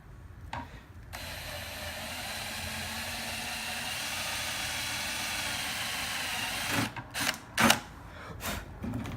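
An electric drill bores a hole during rocker panel fabrication on a Jeep YJ, with a steady mid-level whine held for several seconds, then a cluster of sharp, loud bursts near the end.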